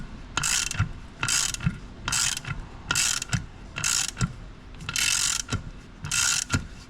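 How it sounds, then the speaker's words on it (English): A socket turns a valve spring compressor down on a rebuilt cylinder head, making a loud, close ratcheting clatter in seven regular bursts of clicking with brief pauses between them and no talk. "And then we just turn this down so the springs compress."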